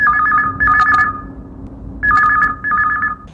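A telephone rings for a Chhattisgarhi song radio call-in show, sounding two clear double-trill bursts separated by a pause, loud and alone with no talk.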